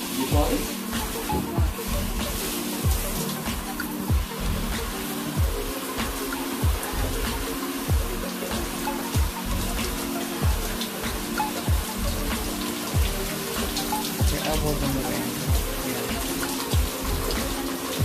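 Tap water runs steadily while hair is rinsed out during a natural hair wash, a continuous close hiss with small splashy fluctuations under intermittent talking.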